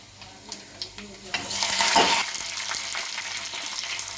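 Mustard seeds, garlic, green chillies and curry leaves sizzle in hot oil for a tamarind chutney, a steady crackling fry that swells midway with stirring and spatter, close and moderately loud.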